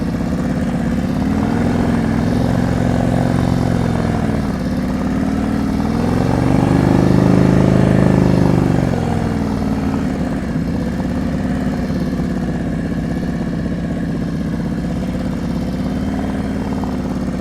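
A motorcycle runs at slow speed during a riding-skills practice session, its engine humming steadily with a swell in revs midway before settling back to a low, even idle-like drone.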